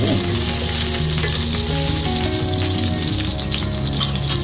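Garlic sizzles and crackles in a hot pan, a loud, steady, close frying hiss lasting throughout, with faint tonal background sound underneath.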